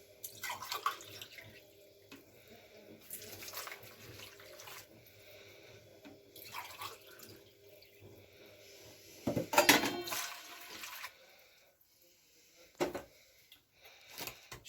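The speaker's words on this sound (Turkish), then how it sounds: "Ve üzerine iki su bardağı ılık su ekliyorum." Warm water pours into a bowl of dough ingredients for Ramadan pide, soft splashing in intermittent bursts with one louder gush partway through, set against quiet kitchen background.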